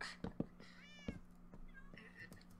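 A cat in a pixelated multiplayer video game gives a soft meow among quiet clicks and game effects, faint and close, with a voice murmuring underneath.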